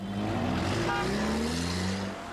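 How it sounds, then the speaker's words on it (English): A souped-up BMW car drives with a steady, loud engine drone whose pitch rises and falls as it accelerates, heard alone and close throughout. "behind the wheel of his souped-up BMW"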